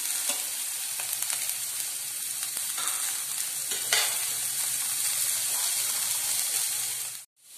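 Capsicum frying in a pan for paneer fried rice, a steady close sizzle with light stirring scrapes throughout, cutting out abruptly near the end; no talking.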